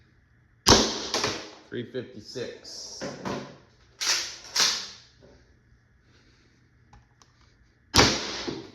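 An Umarex T4e HDX 68 CO2 marker, modified, fires several sharp shots, a loud crack near the start and another near the end with a couple between, while someone talks over them.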